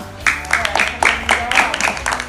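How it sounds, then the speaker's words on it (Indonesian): A small group of schoolchildren claps in a brisk burst of applause in a village classroom, close and moderately loud, lasting a couple of seconds. "tepuk tangan dulu lah"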